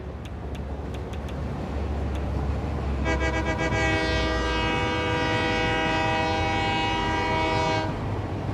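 A train horn in a video game sounds one long, steady blast lasting several seconds, loud and close over a rumbling, clattering rail background with a few short clicks beforehand, and no talking.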